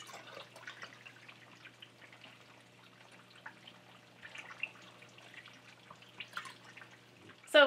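Rendered lard drips from cooked pieces into a quart jar, with soft, sparse drops falling at an irregular pace in a quiet room.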